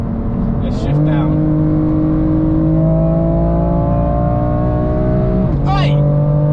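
BMW M4 engine on a motorway, held steady at high revs then blipping sharply on a downshift near the end, with a loud rising-and-falling rev flare; a voice talks over the drone.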